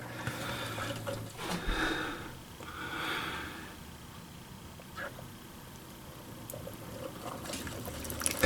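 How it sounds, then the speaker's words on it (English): Coffee maker dispensing 10 ounces of hot water into a cup of ramen, quiet sputtering and gurgling bursts over a low hum, fairly faint and irregular. "And there goes the water, guys."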